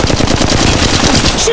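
Rapid automatic gunfire in the mobile video game Apex Legends Mobile, a loud, dense burst of closely spaced shots lasting the whole short moment.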